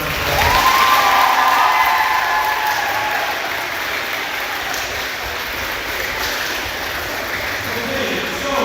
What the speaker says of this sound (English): let's give our teachers a big round of applause